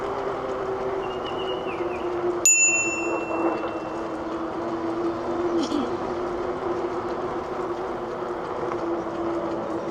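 A single crisp ring of a bicycle bell while riding past on a forest preserve path, set against constant rolling noise of the ride, with a faint bird call nearby.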